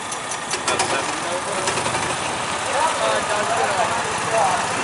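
A 1969 Dodge with a Hemi engine runs at a hot rod reunion in California, a low, steady mechanical rumble with a faint knocking texture, heard amid background chatter from the crowd.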